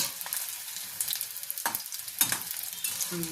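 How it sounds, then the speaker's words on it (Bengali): Rohu fish balls deep-frying in hot oil, with a continuous close sizzle broken by a few sharper crackles and stirring scrapes, and no talking. "এইভাবে আমি প্রত্যেকটা ভেজে নিচ্ছি।"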